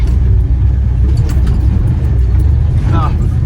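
An old Jeep crawling off-road over sharp rocks, with a loud, steady low engine rumble heard from inside the vehicle and a person talking over it.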